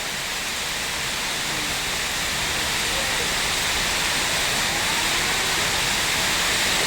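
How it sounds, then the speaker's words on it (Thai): Heavy torrential rain pours down in Surin, Thailand, a loud, dense and unbroken roar of falling water that fills the whole scene. "เจอฝนถล่มทลายเลยพี่ น้องครับ"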